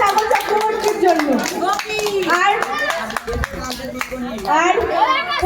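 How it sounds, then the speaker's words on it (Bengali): A crowd at a Jagaddhatri Puja prize announcement claps for a winner, giving scattered hand claps mixed with loud children's voices and chatter close by. "জোরে হাততালি হয়ে যাক আবার সাগর চক্রবর্তীর জন্য।"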